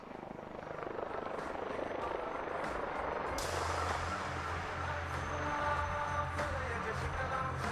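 An LUH helicopter performs rearward flight and a tail-up hover at an Indian Air Force air display, its rotor drone steady and distant with a brighter whine building midway.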